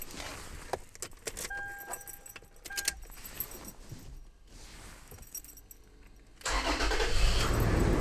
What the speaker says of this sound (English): I turn the car on.